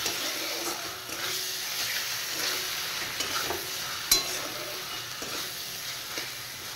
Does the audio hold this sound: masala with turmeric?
yes